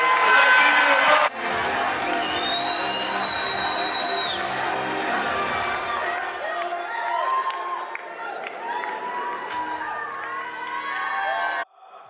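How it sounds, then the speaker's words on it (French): A large audience applauds and cheers for pastry contestants at the Pastry World Cup in Lyon, with loud clapping, whoops and crowd shouts building over a sustained roar. Some voices ring out above the din. "je voudrais que vous les applaudissiez."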